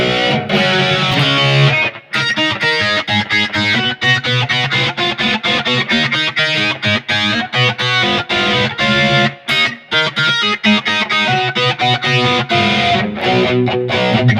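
Electric guitar played through a chorus tone on a BOSS eBand JS-10, loud rhythmic strummed chords and picked notes with a shimmering, slightly distorted character, briefly pausing around two seconds and again near ten.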